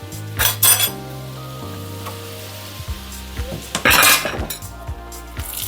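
Steak basting in a pan over low heat at home, with a soft steady sizzle broken by loud clinks and scrapes of a spoon or utensil against the pan, plus a few sharper metallic knocks.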